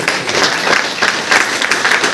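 Audience applause at a meeting program in Basti, a dense, steady clapping filling the hall at close range for a couple of seconds with no clear voices over it.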